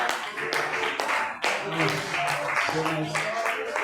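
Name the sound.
congregation clapping for Jesus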